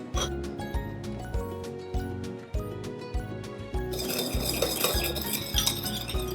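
A spoon stirring and clinking against a bowl while mixing sugar and soy sauce into a caramel syrup, steady close-up taps and scrapes over background music.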